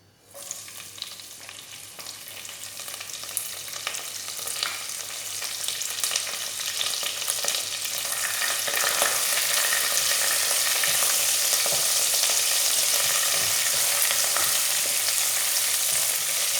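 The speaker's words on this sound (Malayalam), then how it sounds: "അതിലേക്ക് ചൂടാകുമ്പോൾ പച്ചമുളകും കറിവേപ്പിലയും ചേർക്കുന്നുണ്ട്" Green chillies and curry leaves fry in sunflower oil, a sizzle that starts quiet and builds to a loud, steady hiss close by, with scattered pops and no speech.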